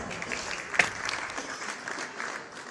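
Applause breaks out in a hall for a woman being honoured at a church gathering, a steady patter of many hands at moderate distance with one sharp peak near the start, continuing evenly without voices over it.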